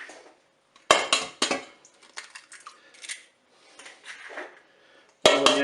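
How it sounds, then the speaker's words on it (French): Three eggs cracked one after another into a mixing bowl while making chocolate-square cake batter, with sharp clacks and taps of shell against the bowl's rim, close and clear. "je vais commencer par casser les œufs dans mon saladier."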